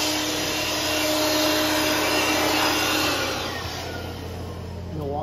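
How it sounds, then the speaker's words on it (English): A Milwaukee air dryer blows a steady, loud, broadband rush of air over a washed 2021 S550 car during professional detailing, holding constant before dipping slightly near the end. "We also use the air dryer as much as possible"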